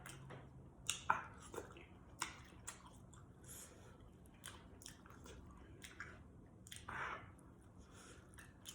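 Close, quiet chewing and biting on rotisserie chicken with crispy skin drenched in hot sauce, wet squishy mouth sounds with a few sharper crunchy bites spread irregularly, no talking.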